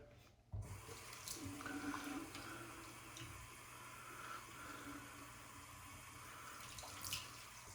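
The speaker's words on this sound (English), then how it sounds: "squirt some water inside, just a bit of water" Water is squirted and splashes steadily into a shaving bowl after a brief pause, fairly quiet and close, with no voices.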